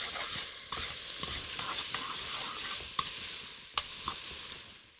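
Garlic and rosemary sizzle steadily in a pan for a beer-braised chuck roast, with a spoon scraping and clicking against the pan in several distinct strokes, up close and with no talking.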